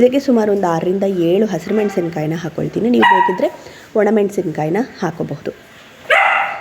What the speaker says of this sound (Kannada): ನಮ್ಮ ನಾಯಿ ಮರಿದು ಬ್ಯಾಕ್ಗ್ರೌಂಡ್ ಸೌಂಡ್ ಬರ್ತಾ ಇದೆ